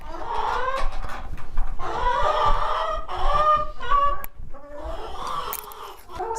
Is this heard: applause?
no